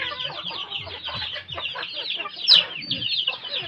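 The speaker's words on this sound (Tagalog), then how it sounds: "si Kuya Memo po ang may-ari ng mga manok na yan" Native chickens on a small farm cluck continuously, with one brief higher squawk standing out, heard close and without talk.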